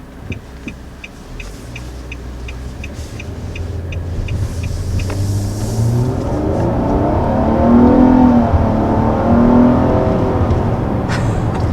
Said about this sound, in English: So activate the sport and we'll take off and see how she does.